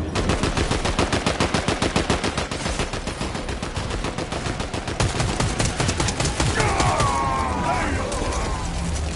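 Rapid gunfire in a video game shooter: a dense, fast, unbroken stream of loud shots, like an automatic weapon firing continuously, with a brief sweeping effect near the end.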